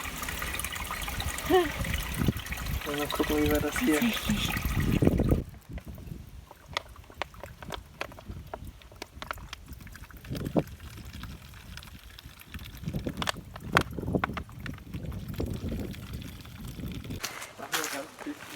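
Water from a spring trickles and splashes while hair is washed in it outdoors, uneven pouring and dribbling sounds close by, with people speaking German over the first part.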